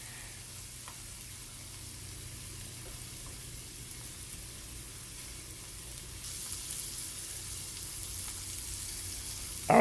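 Shrimp frying in olive oil and butter in a pan give off a steady, close sizzle throughout, growing a little louder and brighter partway through, with a small clatter at the very end.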